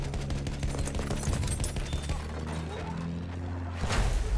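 An anti-aircraft rocket gun fires in a Battlefield 1 match. Rapid repeated blasts form a dense fusillade over a low rumbling battlefield, with a louder burst near the end and faint voices underneath.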